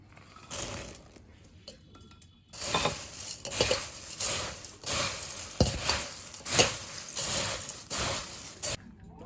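Cornflakes and peanuts being stirred into puffed rice for an evening snack, a dry rustling and clattering mix that comes in bursts, loud and close, after a quieter opening.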